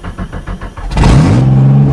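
A four-wheel-drive vehicle's engine catches and settles into a steady, loud idle after a winter cold start, with a few rhythmic cranking pulses before it fires.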